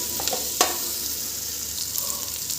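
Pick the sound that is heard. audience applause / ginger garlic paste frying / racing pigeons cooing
ginger garlic paste frying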